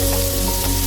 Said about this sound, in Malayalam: ഞാനിവിടെ ചെറിയ 2 സവാളയാണ് എടുത്തിട്ടുള്ളത്. അതൊന്ന് വഴറ്റിക്കൊടുക്കാം.